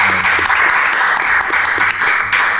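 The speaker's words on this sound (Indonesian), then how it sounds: "Tepuk tangan dong." A studio audience at a casual talk show with University of Indonesia student executive board guests applauds in a dense, continuous wash, with faint voices underneath.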